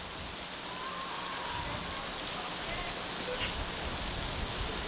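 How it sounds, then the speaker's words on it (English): Torrential rain pours down at Spartan Stadium during a rained-out women's college soccer game between Castleton and Rensselaer, a dense, loud, unbroken hiss of downpour filling the entire span. "just a torrential rain here at Spartan Stadium"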